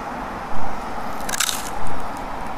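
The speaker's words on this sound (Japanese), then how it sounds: "じゃあ食べてみます" Crunchy gyoza from a space-food vending machine bitten twice, two short crisp crunches close up with a pause between them and no talking.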